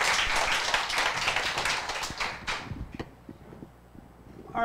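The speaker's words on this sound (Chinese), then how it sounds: "我们掌声欢迎阿刚老师" An audience at a panel discussion claps to welcome a speaker, dense applause that thins out after about two and a half seconds into a few scattered claps and room noise.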